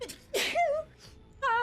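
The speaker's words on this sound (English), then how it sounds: "Oh, I have to sneeze." A single sharp sneeze bursts out after a brief breathy 'ah' intake, followed by soft vocal sighs.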